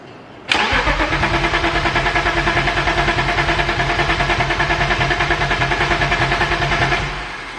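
A fire-damaged BMW E34 engine catches almost at once after fuel priming. It settles into a loud, close, steadily pulsing idle, then winds down at the end.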